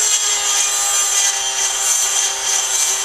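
A Dremel rotary tool with a grinding stone sharpens chainsaw teeth, giving a steady, loud, close high-pitched whine and rasp that carries on without a break and with no talking.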